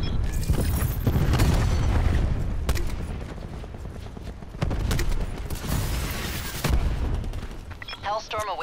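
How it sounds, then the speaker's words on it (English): Cluster grenade blasts in Call of Duty: Black Ops 4 boom in heavy, loud bursts, several explosions landing in clusters with rumbling tails, mixed with game voice callouts and other battlefield noise. "Cluster grenade going out."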